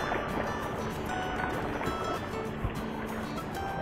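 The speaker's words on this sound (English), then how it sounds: "Got some waves coming in." Small waves lap quietly against a fishing boat on Lake of the Ozarks, a soft, steady wash of water with light wind and no talking.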